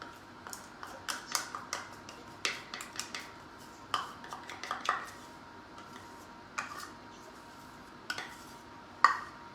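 Peanut butter being spooned into a bowl of dry brownie ingredients, with a steady run of light utensil taps and scrapes against the bowl and a few sharper clinks, close by and without talk.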